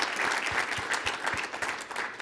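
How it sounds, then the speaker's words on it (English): A room full of people applauding at the AAU Sullivan Award event, dense steady clapping throughout with no voices rising above it. "So round of applause for them."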